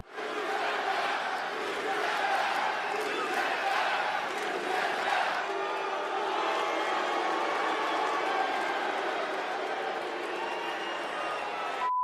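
An arena crowd at a WWE event booing a female wrestler during her promo, a dense sustained roar of many voices that stays loud and unbroken throughout.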